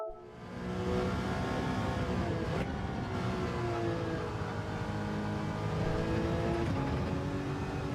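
Toyota Supra engine in a racing video game, a steady loud droning whine with smoothly shifting pitch as it revs and changes gear, continuous and close with no talk.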